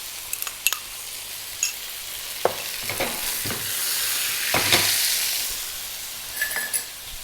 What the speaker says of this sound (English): We want to take the butter and spoon it over.